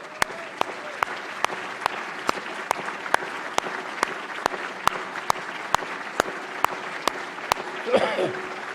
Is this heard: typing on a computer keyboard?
no